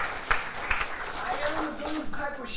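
A church congregation applauds during a service, the clapping moderate and uneven and partly masked by someone speaking over it.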